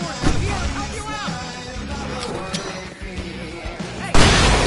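Fireworks go off amid a chaotic nighttime fight in the Alan Wake game, mixed with shouting voices and clatter, ending in a loud bursting crackle.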